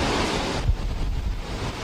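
Roaring wind from Typhoon Glenda in the Philippines buffets the microphone over the heavy rush of surf, a loud, continuous broadband storm noise with no voices.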